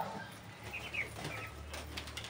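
Pigeons in a loft make faint, soft cooing and rustling sounds, with a brief flutter, quiet against a low background hum.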